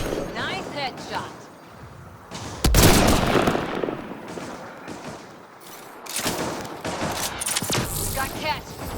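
Gunfire from a first-person shooter video game, with bursts and rapid volleys of shots, a loud blast near the three-second mark, and more firing later, all mixed with game audio and a person talking.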